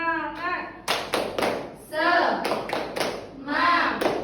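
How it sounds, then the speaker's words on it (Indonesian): A classroom clapping chant in Indonesian, several short bursts of sharp rhythmic claps from the pupils alternating with a teacher and children chanting together. "ayo kita tepuk semangat dulu ya"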